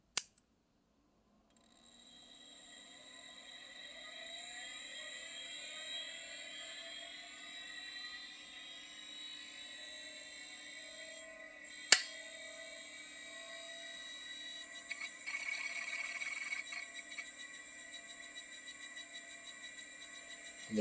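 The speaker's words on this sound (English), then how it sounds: "we're just going to simply listen to the spin up and spin down sounds of this drive" A 1990 Seagate ST4766NV SCSI hard drive spins up with a rising, whining motor pitch and layered tones that build and settle into a steady high hum. A sharp click comes midway and a rougher buzzing seeks later on.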